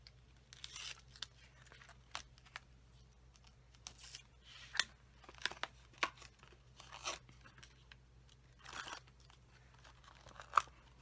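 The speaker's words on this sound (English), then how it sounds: "peel off my backings" Backing paper peeled off card-making pieces, with short crisp tearing and crinkling bursts that come intermittently and sit close and fairly quiet over a low steady hum.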